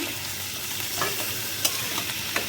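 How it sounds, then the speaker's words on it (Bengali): Eel fish pieces frying in hot oil with onion, stirred with a utensil: a steady close sizzle with scattered scraping clinks of the spoon against the pan, no voices. "মাছ দিয়ে দিলাম দেওয়ার পরে তেলের সাথে এটাকে একটু ভালোভাবে মিশাইয়ে"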